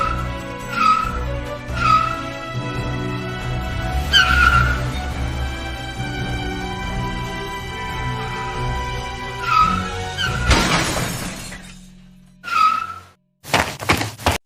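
A car with a shot-out wheel skids out of control, with repeated tire squeals over a droning engine and music, then a loud crash and thuds at the end.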